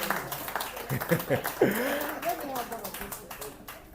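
Audience clapping hands in a mentorship class gathering, a light patter of applause mixed with talk and some laughter.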